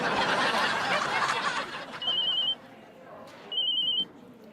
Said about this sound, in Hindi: मिस्टर साजन, अगर आपको आंसर नहीं करना है उस फोन को, जस्ट स्विच इट ऑफ, और I don't know, it's disturbing.